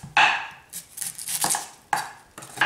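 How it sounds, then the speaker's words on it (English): A kitchen knife cuts an onion into wedges on a cutting board, with a few crisp, separate chops and slices landing at uneven intervals, close and clear, with no one speaking. "So now I'm gonna show you how to cut the onion wedges"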